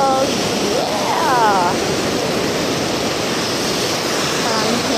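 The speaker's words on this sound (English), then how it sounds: "Here I am in this beach. It's really pretty." Steady broadband surf washes in at Myrtle Beach, South Carolina, loud and continuous throughout, with a brief bird-like chirp early on and no talk over it.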